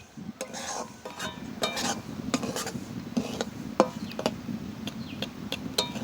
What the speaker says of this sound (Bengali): সুজিটা ভালো করে ভেজে নিতে হবে।